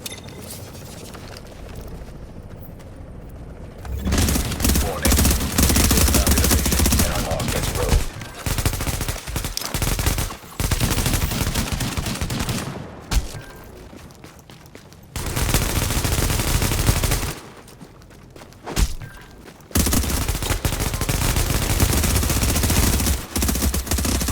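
Heavy gun fire in The Division, the Lone Star light machine gun, comes in long sustained loud bursts separated by brief quiet gaps, dense and close with no talk over it.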